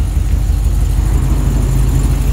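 A Holden Senator, a VL Commodore, idles at a car spotting meet in Liverpool, Sydney, its lumpy engine giving a steady, loud, low throb with no break and no voices.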